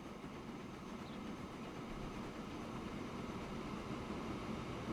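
Trains running on a rail line in the video game Transport Fever, a steady dense rumble of rolling wagons with no distinct clacks, continuous and moderately loud, without talk.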